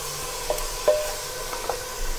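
Mutton pieces and potatoes frying in a pan on full flame for aloo gosht, a steady moderate sizzle with a few soft scrapes of stirring, no voices.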